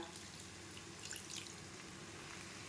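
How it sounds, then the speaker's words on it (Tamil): Water poured into a pan of lemon rice in a home kitchen, a faint, quiet splashing trickle heard close, without any talking. "உப்பு ஆட் பண்ணிவிட்டு தண்ணி ஊற்றிக்கோங்க"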